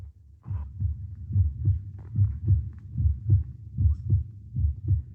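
A steady, close heartbeat sound effect in a radio drama, for a condemned man's pounding heart at the gallows, thumping in regular double beats throughout with no voices over it.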